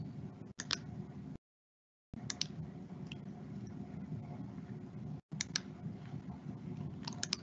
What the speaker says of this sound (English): clicking on the wrong things here